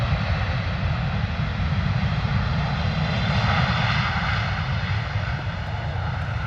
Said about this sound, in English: There it is, beautiful FedEx 777 to start us off with this morning.